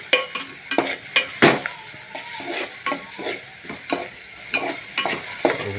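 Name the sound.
slowly stirring ginger chili mixture in pan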